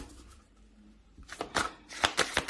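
Tarot cards riffle and snap in a few quick shuffles, quiet at first, then louder crisp bursts near the end, with no talking.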